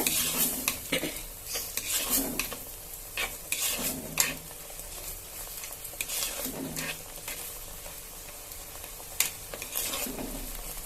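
Aloe vera flowers sautéed with rock salt in a pan, with a soft continuous sizzle and intermittent scraping and clinking of a spatula against the pan, close by.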